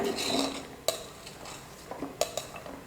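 Clinking scrapes and taps of a utensil against a bowl as something is stirred, a few sharper knocks standing out over a soft background.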